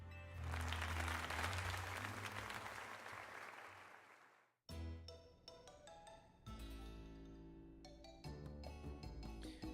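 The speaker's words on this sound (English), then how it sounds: "let us give another heartfelt round of applause to Mark" Crowd applause in the Pokémon Legends: Z-A video game, a dense, steady wash of clapping for about four and a half seconds that cuts off abruptly, followed by bright melodic game music with chiming notes.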